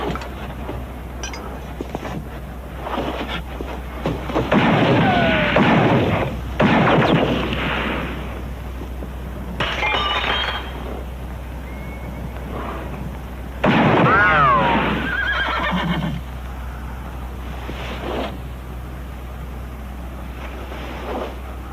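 Gunfire rings out in a Western town, several sharp reports spaced apart over a low steady hum, some shots with ringing ricochet-like tails.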